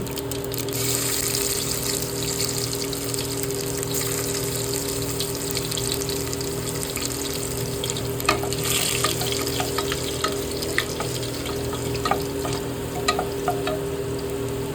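Garlic dropped into hot oil with cumin for khichdi, with a steady frying hiss throughout, a low hum in the background and brighter crackles and spoon clicks in the second half; no one talks.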